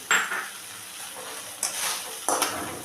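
A mash of shrimp and pointed gourd is stir-fried in a pan, with several bursts of scraping and sizzling as a spatula works the thickening mixture.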